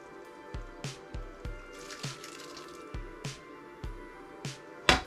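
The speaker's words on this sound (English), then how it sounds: "now I'm going to pour it in the pot with the pasta" Thick pasta sauce for clam linguine plops and squelches into a pot of pasta in a series of wet, irregular glugs, close up, with no talking.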